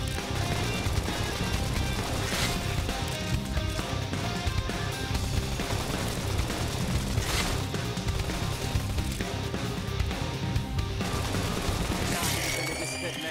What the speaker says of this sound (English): Tap them over with gunfire!